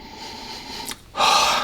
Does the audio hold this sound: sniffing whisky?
yes